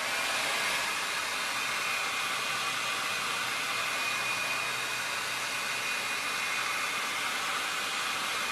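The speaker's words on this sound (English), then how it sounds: "I'm going to use my hair dryer, and I'm going to dry what we've worked on" A hair dryer blows steadily to dry chalk artwork on a mirror, a loud continuous broadband whoosh close by with no talking.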